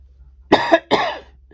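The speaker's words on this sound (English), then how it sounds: "Sorry about me coughing." Two harsh, close coughs in quick succession from a person working on a Poinsettia Runner, loud and alone with no talk over them.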